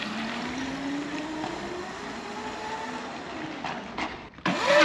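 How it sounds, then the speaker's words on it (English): Honda front-wheel-drive car engine revving hard with a rising whine during a burnout, continuous and loud, ending in a sharper burst near the end. "First I'm going to do a water and then I'm going to do a burnout"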